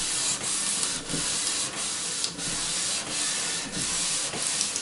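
Fine-grit sanding and polishing of a fossil: a steady, close abrasive rasp with rhythmic strokes that swell and ease about every half second, continuous and alone.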